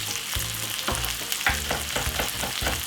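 Vegetables including green pepper frying in a pan for a vegetable corned beef dish, a steady close sizzle with repeated scraping and stirring knocks throughout.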